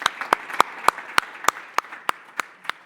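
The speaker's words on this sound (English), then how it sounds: "An applause to all panelists," Scattered applause from a small conference audience for the panelists, about ten distinct hand claps in an irregular rhythm, moderately close and fairly quiet, with no talking.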